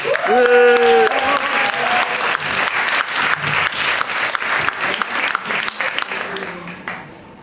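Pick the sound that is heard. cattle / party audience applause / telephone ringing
party audience applause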